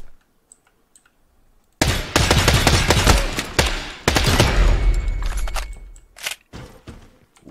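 Dense automatic gunfire from the video game Lost Light breaks in suddenly after a quiet start. Loud rapid bursts run for several seconds, then thin out to scattered single shots.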